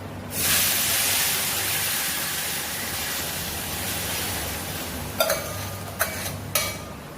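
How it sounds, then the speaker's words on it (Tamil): Tamarind water poured into a hot tempering of oil and asafoetida for puli sadham, giving a loud, steady sizzling hiss throughout, with a few sharp metallic clinks of a pan or utensil near the end. "இப்போ புளித்தண்ணி சேர்த்துக்கலாம்"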